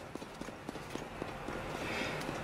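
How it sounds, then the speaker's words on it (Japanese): Donkey hooves in The Legend of Zelda: Tears of the Kingdom clip-clop in a quick, steady rhythm of light, fairly faint steps under soft game ambience. "ここにですねロバちゃんがいるんですよ"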